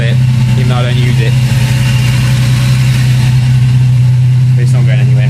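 Steady close idle from an old Mazda MX car engine, a loud even low hum that holds for several seconds while a person talks faintly over it.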